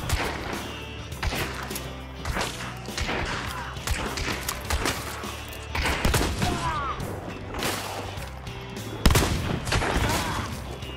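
Shotgun blasts and other gunfire in a Hunt: Showdown firefight, a rapid cluster of loud, sharp reports, the heaviest near the end, over a busy background.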